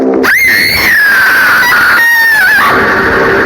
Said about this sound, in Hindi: मोहन ने तुरंत हाथ में पकड़ी मशाल बंजारन के पीठ में बनी उस निशान पर लगा दी और दर्द के मारे बंजारन चीख पड़ी।